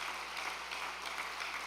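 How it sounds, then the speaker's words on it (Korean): A seated audience claps in thanks after an interview at an overnight devotional gathering, giving a soft, steady wash of applause with no voices, heard from a distance and fairly quiet throughout. "감사의 박수를 부탁드리겠습니다"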